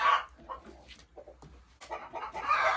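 A startled Belarusian-breed hen in a henhouse gives a short burst of agitated clucks and squawks, fairly close and loud, with a sharp cry at the start and another flurry toward the end.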